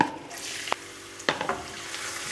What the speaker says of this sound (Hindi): अब मैंने इसमें ये 3 दरमियाने साइज़ की प्याज ली थी, उनको बारीक चॉप कर लिया है, ये डाल दूँगी